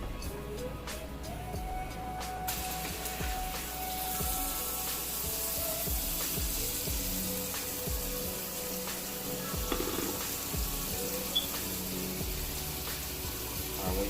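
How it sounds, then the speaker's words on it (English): Steak frying in boiling butter in a pan, a continuous crackling sizzle with scattered pops and occasional scraping or handling knocks, fairly close with no talk. "when y'all butter starts to boil a little bit, you can go ahead and put your steak in there"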